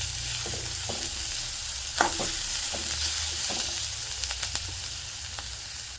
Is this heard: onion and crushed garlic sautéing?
yes